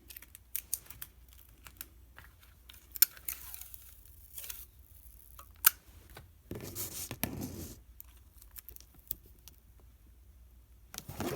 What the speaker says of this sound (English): So I'm going to just cut a little bit of that off.